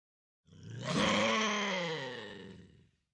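A lynx gives one drawn-out, moaning call that swells and fades over a couple of seconds, close and alone against silence.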